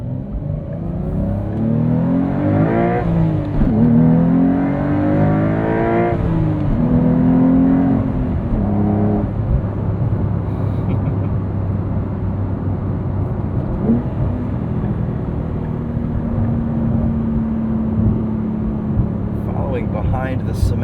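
A 2025 Porsche 911 Carrera T with a six-speed manual revs out hard from the cabin, engine pitch climbing repeatedly through gears with brief dips at shifts, then settling into a steady cruising drone with road rumble.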